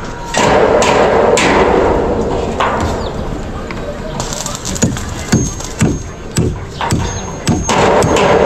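Hammer blows during house repair work, a run of sharp, fairly loud thuds in uneven bursts over steady background noise, with voices faintly present.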